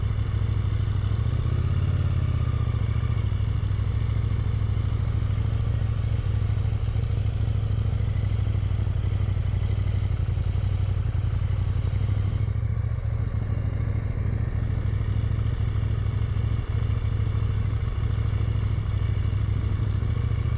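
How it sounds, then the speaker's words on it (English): A motorcycle riding figure eights in an empty parking lot, its engine giving a steady, close, rumbling drone throughout with slight shifts in pitch as it turns. "I practiced my figure eights perfectly without putting a foot down or dumping the bike like I did last time."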